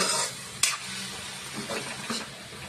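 A spoon stirs food in a pan, scraping with a sharp clink near the start over a soft, steady sizzle, close and alone without talk.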